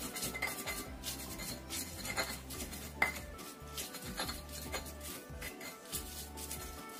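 Soft repeated scraping and grinding of a pestle working spice paste with salt in a mortar, a faint, steady rubbing rhythm with occasional light knocks, close up and quiet with no speech.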